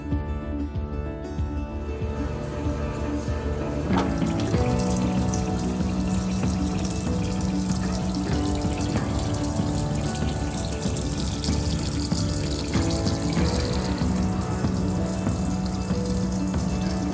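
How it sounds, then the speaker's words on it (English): Water runs steadily through a tankless reverse osmosis filtration system, a loud, continuous close-up rush like a filling sink, with small shifts in flow and no talking. "The X Series is a tankless reverse osmosis system, so that saves space and you kind of have unlimited filtered water on demand."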